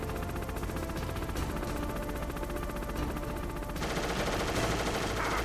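Rapid automatic gunfire in Metal Gear Solid keeps up as a dense, loud, continuous rattle for the whole stretch and grows harsher and brighter in the second half.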